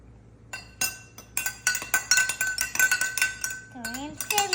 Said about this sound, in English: I'm gonna take a spoon and stir it.